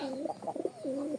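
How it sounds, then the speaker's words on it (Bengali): A Benarasi Lotan pigeon coos close by, a soft, rolling, throaty call repeated in quick pulses. "বেনারসির লোটন যেটা বলে, এই দেখেন নটটা ডাকতেছে"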